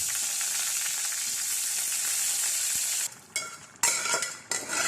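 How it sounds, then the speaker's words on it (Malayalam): Mustard seeds frying in hot oil for a lentil curry tempering, a loud steady sizzle for about three seconds that then breaks into bursts of crackling and popping as the pan is stirred. "അപ്പോൾ ഇനി ഇത് കടുകിട്ട് ഒന്ന് വറുത്തെടുക്കണം."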